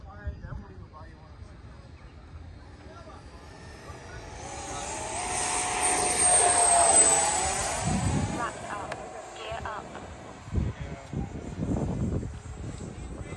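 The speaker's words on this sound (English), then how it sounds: "FMS Futura Tiffany taking off." An FMS Futura RC model jet takes off at an outdoor flying field, its whining engine rising and swelling as it passes, then fading, with people talking and wind noise nearby.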